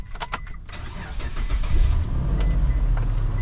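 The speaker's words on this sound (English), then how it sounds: "Start the engine" A Gen3 Mitsubishi Montero engine cranks briefly after a short rattle of keys, catches and settles into a steady low idle, close and loud.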